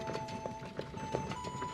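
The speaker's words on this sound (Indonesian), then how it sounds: "Sosong dan Ayao pergi berkeliling menggunakan kereta kuda" Horse hooves of a horse-drawn carriage clip-clopping at an even walking pace, several distinct hoof falls at moderate distance over a steady background hum.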